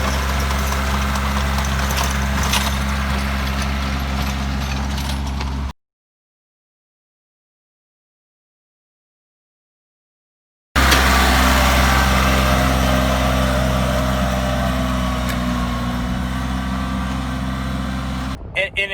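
Tractor pulling a homemade planter across a field: a steady, loud engine drone with a strong low hum that runs on and on, broken by a gap of silence midway. No one talks.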